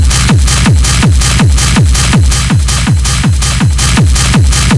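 A heavily saturated Schranz techno drum loop with a booming kick on a steady four-on-the-floor pulse, dense gritty percussion filling the highs, loud and continuous.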